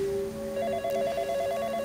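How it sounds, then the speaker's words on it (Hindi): A landline telephone rings with a steady electronic warble, close and moderately loud, heard alone for under two seconds with no talk. "इसी बीच उसका वो लैंडलाइन फोन बजा जो शायद ही कभी बजता था।"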